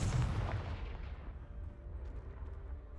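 A Confringo blast spell goes off in Hogwarts Legacy: one loud, booming explosive hit whose rumble fades over a few seconds, with no talk.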